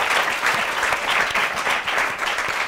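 Audience applause fills the room in a dense, steady wash of many hands clapping, fairly loud and continuous, with little talk beneath it.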